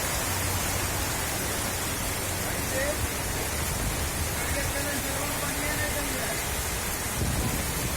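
Steady heavy rain hisses continuously without a break, a dense wash of noise filling the background, during a downpour in Hyderabad.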